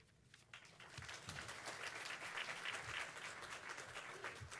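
An audience at a county MLK celebration claps in sustained applause, building quickly from a few hands into a dense, even wash that holds steady, heard from a distance.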